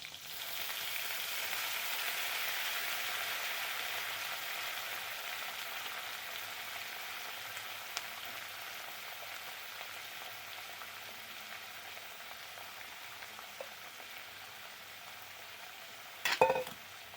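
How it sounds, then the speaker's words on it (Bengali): Green chillies and coriander leaves frying in hot oil, giving a soft, steady sizzle that slowly fades, with a brief clatter near the end. "এবার দিয়ে দেবো এই তেলের মধ্যে কয়েকটা কাঁচা লঙ্কা।"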